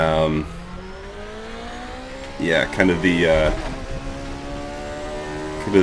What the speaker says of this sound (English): it does really have a, you know, a really unique engine note